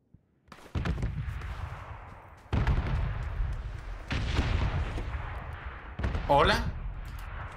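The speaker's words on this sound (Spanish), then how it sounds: "No para los tiros, ¿eh?" Gunfire in the battle royale game PUBG comes in several loud, sharp bursts with ringing tails, while a player speaks and reacts over the shots.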